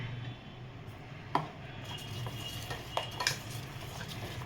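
Hot oil spooned into batter for crisp brinjal and potato bhaji and stirred in, quiet scraping and stirring with a few sharp spoon clinks against the bowl, no talking.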